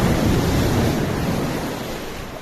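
Sea surf at Candabong beach in Anda, Bohol, a broad steady roar of breaking waves with wind buffeting the microphone, loud and close, easing slightly toward the end, with no talk.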